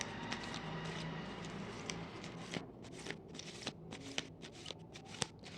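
Tarot cards are shuffled by hand in a quiet room, a dense continuous riffling that turns into separate crisp flicks and taps partway through.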